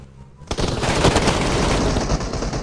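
Gunfire in the mobile battle royale game PUBG Mobile: a sudden loud burst of rapid automatic shots begins after a quiet moment, then continues as dense, sustained firing.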